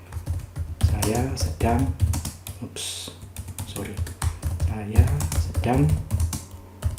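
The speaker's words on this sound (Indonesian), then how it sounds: "jadi saya langsung aja ketikkan di sini" A ChatGPT prompt being typed on a computer keyboard, with quick bursts of key clicks running under a person speaking for most of the stretch.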